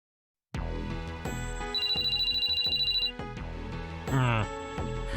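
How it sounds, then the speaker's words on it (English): A cell phone rings with a chiming melodic ringtone in a video game, a repeating electronic tune that plays steadily for several seconds, close and clear with speech underneath. "I woke up to the insistent buzzing of my cell phone"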